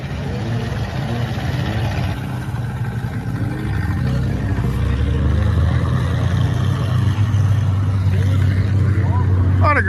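Vintage snowmobiles racing across frozen Fish Lake, with a Ford machine in the lead: a steady loud engine drone that swells and grows heavier partway through, with people talking over it.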